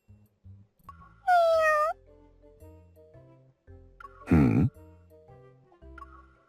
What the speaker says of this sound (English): A meow definitely came from my throat.